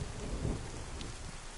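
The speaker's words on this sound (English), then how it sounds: "Hard ass rain." Heavy rain pours down in the video game DayZ, a dense, constant hiss with low rumbling underneath and a sharp rise in the patter around the middle.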